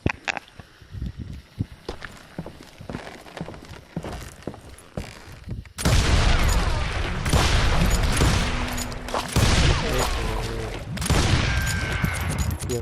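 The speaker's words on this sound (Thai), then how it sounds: "ไดนาไมต์ TNT" Dynamite blows up in the Call of Juarez Gunslinger shootout: a loud, dense blast around six seconds leads into sustained roaring, crackling gunfire and debris after earlier scattered shots and hoofbeats.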